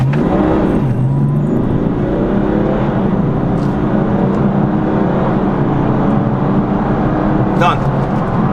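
A car on a hard launch run with traction control off, engine note climbing steadily through the gears inside the cabin, loud and continuous, with voices over it.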